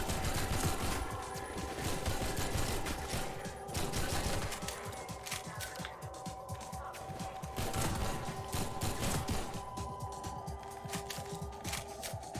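Sustained rapid SMG fire in the Half-Life 2 MMod mod, dense automatic bursts running continuously and loud, layered with in-game mechanical noise and background music, no speech.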